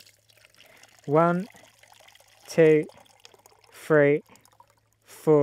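Water running from a gravity-fed pipe into a pint container, a faint steady trickle under a voice counting aloud at even intervals.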